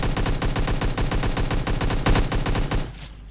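Automatic gunfire in the PUBG Mobile video game, a loud close burst of rapid, evenly spaced shots lasting nearly three seconds before cutting off into a fading echo.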